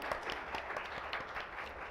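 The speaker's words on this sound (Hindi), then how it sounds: "जोरदार तालियों से स्वागत कीजिए" Applause rises from the audience at an oral health summit as Padma Bhushan Dr. Anil Kohli, former DCI president, is welcomed on stage; quiet and somewhat distant, with individual claps audible in a loose rhythm.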